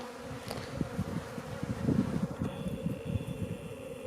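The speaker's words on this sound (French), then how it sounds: "au bout d'une demi-heure, les abeilles sont rentrées dans la ruche" Honeybees hum in a dense, close buzz around their hive, with a steady drone and faint scattered wing flutters throughout and no talk.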